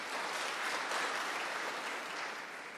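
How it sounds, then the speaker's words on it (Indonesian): A church congregation claps hands together in praise at a morning service, a broad, even wash of applause that swells slightly in the middle and eases toward the end. "Tepuk tangan buat Tuhan kita."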